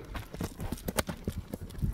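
Horses walk over rocky mountain ground, giving irregular hoof clops and knocks on stone, close and moderately quiet against a soft outdoor background.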